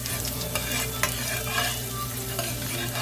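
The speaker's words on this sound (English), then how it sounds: "the oil is getting hot right now. I'm gonna go ahead and put the onion and this garlic first" Chopped onion and garlic dropped into hot oil sizzle steadily and loudly. Spatula stirs and scrapes punctuate the hiss at irregular intervals, close up, with no talking.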